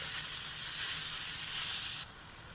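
Fatty 80-20 ground beef fries in a pan with a steady, close, bright sizzle that holds for about two seconds, then drops abruptly to a quieter hiss.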